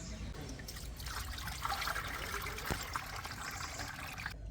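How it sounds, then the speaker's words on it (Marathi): Water is poured into a lotus planting container, a quiet, continuous trickle and splash that runs for several seconds at close range with no talking. "आता ह्याच्यात परत मी पाणी वाढवतोय"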